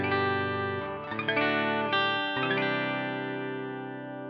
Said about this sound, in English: This is the clean channel of the amp.